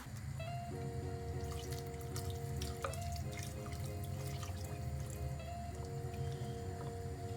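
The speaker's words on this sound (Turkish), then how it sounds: "Şöyle üstünü geçecek kadar biraz daha su ilave edelim." Water poured into a clay pot of dried beans until they are covered, a steady splashing pour with trickling and dripping, close and continuous, no talking.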